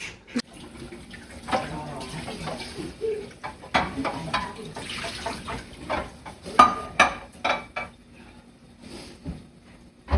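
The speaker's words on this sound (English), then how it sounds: "First, I get off all the crud with steel wool, and then I use this sponge pad of soap." Steel wool scrubs a dirty pot in a kitchen sink, with irregular rasping strokes, clanks of the pot and running water close by.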